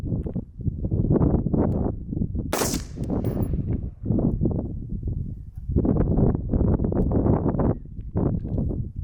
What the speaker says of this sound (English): We're going to do 3 singles shots, that is, so 3 individual shots